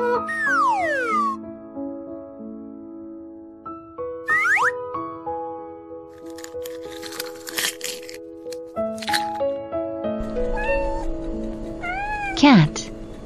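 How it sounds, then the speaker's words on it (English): A cat meows several times in short, rising and falling cries, sounding clearly over a toy with springy boing noises and a voice speaking intermittently. "Cat."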